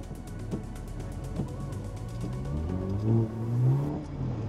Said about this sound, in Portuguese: Vou acelerar o carro.